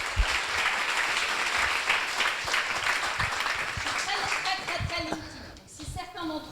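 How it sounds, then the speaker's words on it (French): Audience applause fills a small meeting room at a notaries' workshop, steady dense clapping that thins out toward the end, with a few voices and a chuckle under it. "Je pense qu'on peut l'applaudir"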